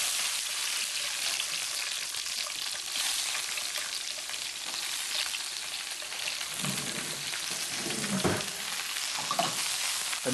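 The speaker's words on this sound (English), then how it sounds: "as soon as I smell peppers and onions sauteing" Peppers and onions sauteing in hot olive oil in a preheated pan, giving a steady, close sizzle and crackle throughout with a few louder stirring clatters near the end.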